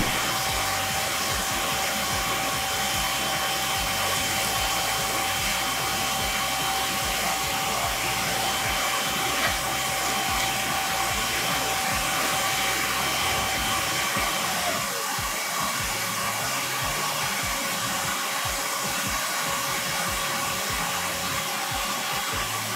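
A Milwaukee M18 cordless vacuum runs continuously at close range, a loud steady whirring motor roar with a thin high whine that drops slightly near the end, with no talk.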